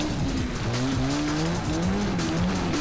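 A motorcycle race in a video game played on the Redream emulator, with a continuous engine drone whose pitch keeps rising and falling through gear changes, steady and close with no talk.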